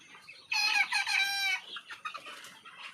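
Poultry farm chickens cluck and call loudly up close, with a sustained burst of squawking followed by scattered, softer clucks from several birds.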